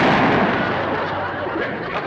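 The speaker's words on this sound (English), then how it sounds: "Jethro shot a fox." A gunshot fired at a fox, heard as a dull booming blast with a rumbling decay that fills the short moment.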